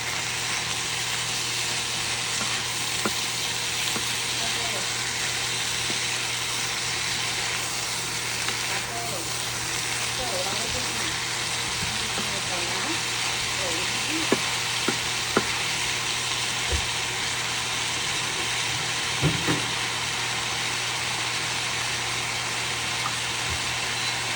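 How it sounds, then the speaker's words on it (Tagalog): Pork and bean sprouts lumpia filling fries in a hot pan, giving a steady, dense sizzle throughout with faint occasional stirring scrapes. "I increase the temperature so that it will create a little browning over our meat and the bean sprouts"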